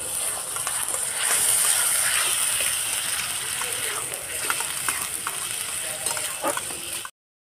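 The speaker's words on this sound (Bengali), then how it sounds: "টক দইটা এবার দিয়ে দেবো।" Sour yogurt poured into a hot pan and stirred while cooking egg do-piyaza; steady loud sizzling and frying hiss with scraping stir sounds, ending abruptly.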